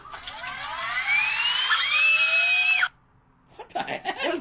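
Recorded screaming played back at fast-forward speed, a long, shrill, sped-up wail that rises and holds before cutting off abruptly, followed by a short gap and then a burst of choppy, chattering noise.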